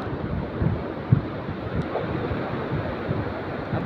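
The Godavari river in fast-flowing flood near Muli Dam, Gangakhed, gives a steady, dense rushing roar of water, mixed with wind buffeting the microphone, continuous and unbroken throughout.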